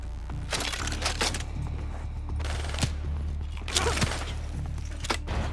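Gunfire from the video game Call of Duty Black Ops 3: dense bursts of automatic weapon fire and sharp cracks over steady low game rumble, with louder volleys clustering near the start, middle and end.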